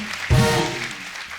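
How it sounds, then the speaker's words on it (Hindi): A studio audience on a comedy talk show breaks into loud, sudden applause for the guests, swelling then slowly fading over a second. "एक बार जोरदार तालियां हो जाए हमारे मेहमानों के लिए।"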